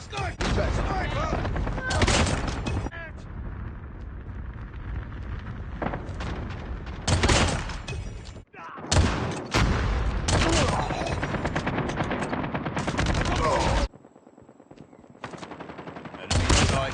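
Gunfire from the Kilo rifle in the Call of Duty Mobile video game crackles in loud repeated automatic bursts, separated by brief gaps, with other game sounds between the volleys.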